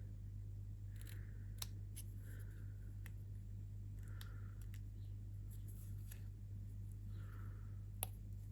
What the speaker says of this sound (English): I'm just going to cut in from the center like so, and then from each end cutting into that center piece.